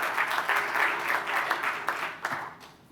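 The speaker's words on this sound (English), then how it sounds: "let's give Lance another round of applause" Audience applause for Lance at the close of an active shooter training session, a steady wash of many hands clapping that fades toward the end.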